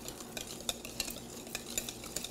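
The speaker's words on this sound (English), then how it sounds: "Let's put some melted butter in. And we're just gonna give it a nice whisk." A whisk stirs melted butter into popover batter in a bowl, giving soft, quiet, rhythmic clicks and swishes close by, with no voices.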